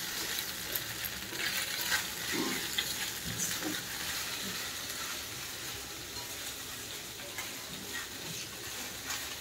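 Pasta frying in a pan with spices, sizzling steadily and loudly throughout while being stirred, with scraping bursts scattered across the sizzle and no talking.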